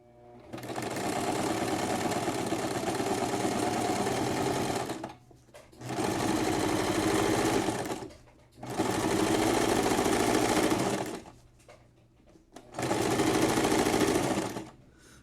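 Sewing machine stitching a seam along the top of a handmade fabric pencil case, four sustained runs of fast mechanical whirring separated by brief pauses, close and loud with no talk.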